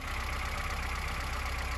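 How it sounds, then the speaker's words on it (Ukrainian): The engine of a VAZ 2101 car idling after restoration work, a steady close rhythmic chug with even low pulses and a constant hum, no talking. "Так, ну от, мотор працює."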